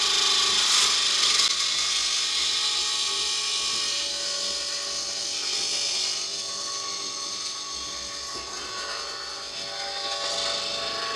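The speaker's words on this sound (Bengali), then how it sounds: "হ্যাঁ, এটা ফিল্টার মেশিন হচ্ছে, ফিল্টার করব। মোটরটা চালিয়ে দাও।" Electric motor driving a liquid filter machine, a steady loud whirring drone with a bright mechanical whine, running continuously throughout with no talk.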